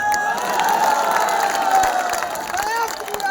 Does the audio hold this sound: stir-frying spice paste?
no